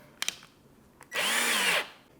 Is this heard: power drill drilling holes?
yes